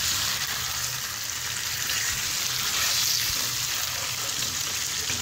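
Chicken frying in a kadai with black cardamom being mixed in gives a continuous, even sizzle and crackle at close range, with faint stirring scrapes and no voices.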